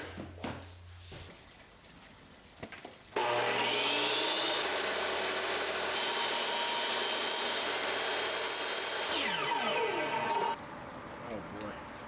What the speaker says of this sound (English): I'm gonna go ahead and freehand that piece on my table saw outside